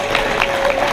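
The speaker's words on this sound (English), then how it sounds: "Give yourselves a round of applause." Applause from a conference audience, a dense, steady wash of clapping filling the whole moment with no pauses.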